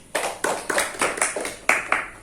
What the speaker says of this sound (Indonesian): Berikan aplaus buat Adik Fendri.